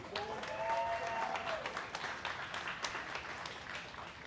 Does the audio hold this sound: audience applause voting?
yes